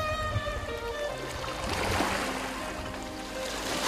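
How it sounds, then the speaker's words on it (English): Calm ocean waves over the sunken Port Royal site off Jamaica, a steady broad wash of water with faint tonal hum and no speech, continuous throughout. "The calming waves"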